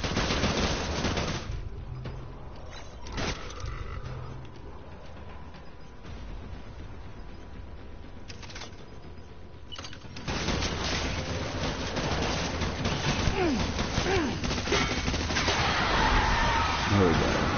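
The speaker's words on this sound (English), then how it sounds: "The real assault rifle, that's right." Assault rifle gunfire in the video game Death Stranding, with repeated sharp shots and rapid bursts over dense game ambience that grows louder and busier in the second half.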